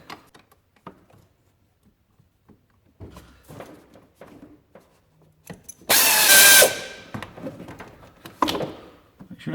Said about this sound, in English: A 15mm socket on here.